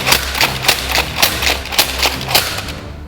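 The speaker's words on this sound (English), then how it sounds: "you can also do slam fire, which is by holding down the trigger and pumping it" A NERF Alien Menace Ravager blaster slam-fires foam darts, the trigger held while it is pumped repeatedly, giving about ten sharp, evenly spaced pops in a quick steady rhythm over a mechanical hum, close and loud.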